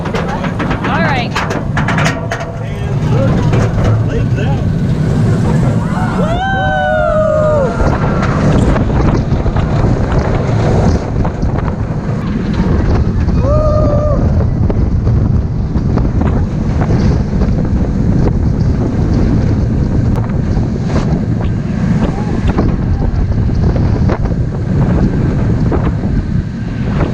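Riding the Apollo's Chariot roller coaster at Busch Gardens Williamsburg: a loud, steady roar of rushing wind and rumbling track throughout, with a couple of distant rising screams partway through.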